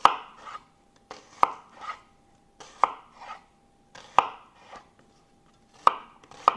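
A knife chops onion on a cutting board in crisp, sharp knocks, roughly one every second with softer slicing sounds between, close and clear with no one speaking.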